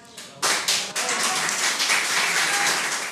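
Applause and scattered clapping at a presidential proclamation ceremony in Chile for Sebastián Piñera, a dense burst of many hands starting sharply and continuing steadily throughout.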